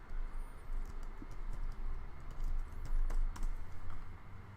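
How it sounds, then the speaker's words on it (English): Rapid, uneven typing on a small computer keyboard during an Entropia Universe hunting session, close clicks in a steady patter over a low background rumble, with no voices. "I'm typing horrible."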